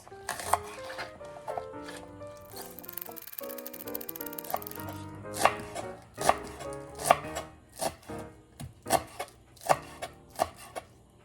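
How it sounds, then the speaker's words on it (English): Knife chopping onions thinly on a board: about ten sharp, evenly spaced cuts sound close and clear over a soft background tone. "Chop our onions. Thin like this."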